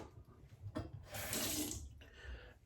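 Tap water running into a sink while a styptic stick is wetted, a steady splashing flow that swells louder midway and then eases, close by with no speech.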